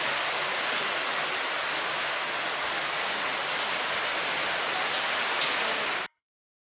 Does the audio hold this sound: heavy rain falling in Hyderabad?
yes